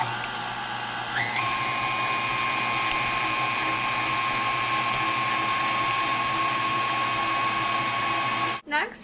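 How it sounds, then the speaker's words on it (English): An electric mixer beats blueberry muffin batter with a steady, high motor whine that rises in pitch early on and holds evenly, then stops abruptly near the end. "we're going to go ahead and put it back down in and finish mixing it"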